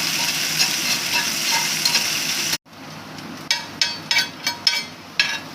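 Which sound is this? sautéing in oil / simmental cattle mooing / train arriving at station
sautéing in oil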